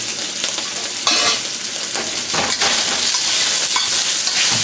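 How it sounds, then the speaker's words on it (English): Beef sears in a very hot wok with salt: a loud, continuous crackling sizzle, close up, swelling with each toss and stir. "So we've got the wok now at high heat. We're going to sear the beef."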